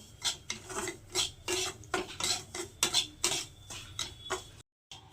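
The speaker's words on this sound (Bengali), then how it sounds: "এবার আটাটা আর সুজিটা এর সঙ্গে একটু ভেজে নেব" Semolina and flour frying in a pan for semolina halwa, stirred with a metal spoon that scrapes and clinks in a steady rhythm of repeated strokes, close up, with a brief dropout near the end.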